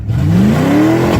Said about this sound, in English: I think the exhaust just fell off.